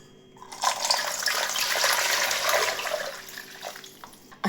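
Water poured into a cooking pot holding ngwashe (sweet potatoes) for a simple egg-free breakfast, a steady splashing pour lasting a few seconds, close and fairly loud with no talk.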